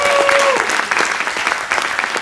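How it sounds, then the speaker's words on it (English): Audience applause at a startup demo day, a dense, steady wash of many hands clapping close by for the whole stretch, with a brief tonal whistle-like tone near the start. "Let's applause for our entrepreneur in residence, Johan Romfert."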